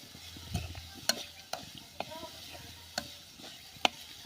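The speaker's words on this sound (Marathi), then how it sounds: "आता मंद आचेवरतीच आपल्याला मिरची ही परतून घ्यायची आहे" Green chilies, garlic and peanuts sauté on low heat, giving a soft background sizzle punctuated by several sharp, evenly spaced clicks and taps of a spoon stirring in the pan, close and quiet with no voices.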